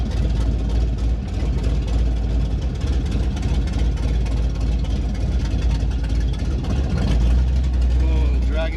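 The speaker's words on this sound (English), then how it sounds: "Does sound pretty rowdy with the exhaust off though." A Pontiac Trans Am runs with its exhaust open and no muffler, a loud, rough, deep rumble that holds steady throughout and swells slightly near the end, up close.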